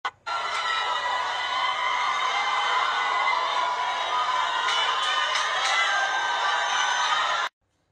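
A large crowd of supporters cheers and shouts loudly and continuously at a courthouse after a verdict of innocence, a dense roar of voices with scattered whoops that cuts off abruptly.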